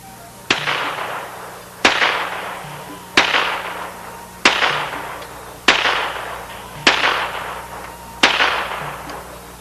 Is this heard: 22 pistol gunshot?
yes